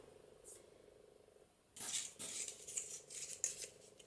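Scissors snip through a paper craft piece for a junk journal, a few crisp close cuts clustered in the second half after a quiet start.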